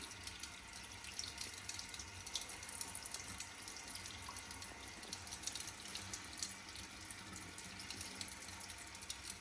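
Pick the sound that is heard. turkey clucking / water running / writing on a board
water running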